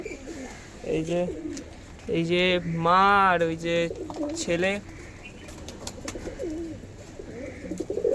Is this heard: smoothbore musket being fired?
no